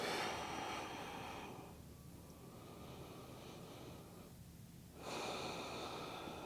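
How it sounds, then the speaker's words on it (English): Slow, deep expansive breaths taken during a vinyasa yoga pose, with two broad breathy swells separated by quieter pauses, close and steady with no talking. "take 2 really, really expansive breaths here"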